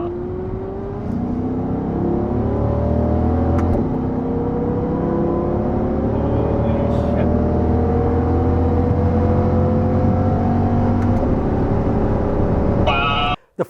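A Ferrari 296 accelerates hard and sweeps past, its engine note climbing through steady rising gears at high, constant loudness before cutting off abruptly at the end.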